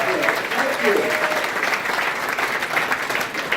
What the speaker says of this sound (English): give a huge round of applause for the corporate staff